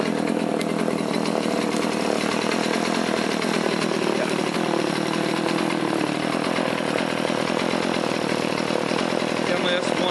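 A Stihl MS180C chainsaw runs continuously, its high buzzing drone loud and steady for the full stretch, with no pauses in the engine note.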